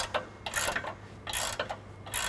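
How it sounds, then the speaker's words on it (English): Wrench work on a bolt of an Ironman 4x4 Raid rear bumper being fitted to a 2016+ Toyota Tacoma: bursts of metallic clicking and scraping in several short clusters, close by with quiet gaps between. "On the top 3rd bolt, we'll throw a 19mm wrench there and grab it on the back side with an 18mm wrench"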